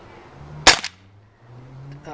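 A Walther P38 BB pistol fires a single sharp crack at close range, followed quickly by a brief second click of the action, with a faint mechanical sound afterward.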